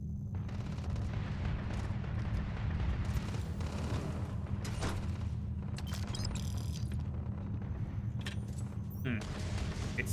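Spaceships firing on each other in the video game Starfield, a continuous barrage of booming shots and rumbling blasts, loud and dense, with crackling bursts layered over a heavy low roar.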